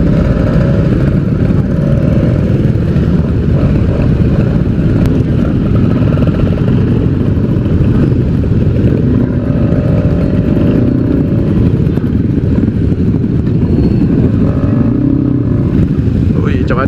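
A motorcycle engine drones loudly and steadily while riding on the road, with wind rumble throughout and a voice talking over it at times.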